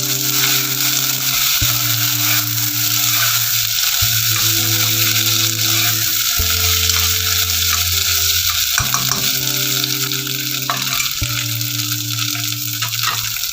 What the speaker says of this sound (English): Fry them for about 2 minutes.